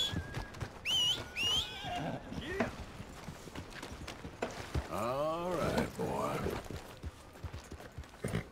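Horse in the video game Red Dead Redemption 2, clip-clopping hooves with two loud, shrill whinnies that rise and fall, close by and mixed with game sounds.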